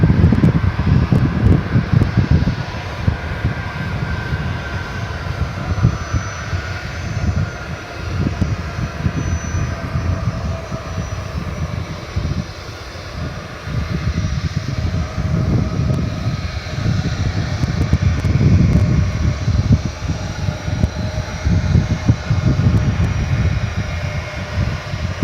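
A jet airliner taxis on the ramp at DFW Airport at night: a loud, sustained engine roar with a steady whine and buffeting wind noise, swelling and easing slightly over the whole stretch.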